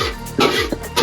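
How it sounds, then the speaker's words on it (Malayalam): A person coughs and clears their throat in a kitchen while spice powder cooks for a beef curry, giving a few short, close, harsh bursts at uneven intervals. "ചെറിയ രീതിയിൽ ചുമ വന്നു തുടങ്ങി."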